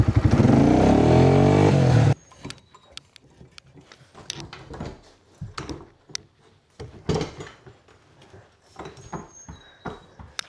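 Four-wheeler ATV fitted with a new exhaust, its engine loud and close for about two seconds before cutting off, followed by scattered clanks and knocks inside a shed.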